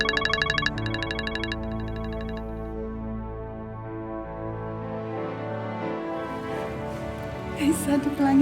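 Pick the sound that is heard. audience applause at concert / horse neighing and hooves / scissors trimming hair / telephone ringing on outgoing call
telephone ringing on outgoing call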